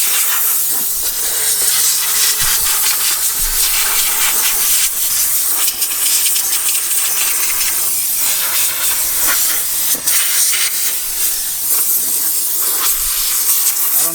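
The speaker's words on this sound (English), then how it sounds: "you'll see really quickly how I'll blow out some debris, like how we use an air compressor with this steamer" A Vapor Clean Pro 6 steamer with a pointer attachment blows a loud, steady hiss of steam to clear crumbs from car interior crevices, running continuously at close range with slight surges and no talking.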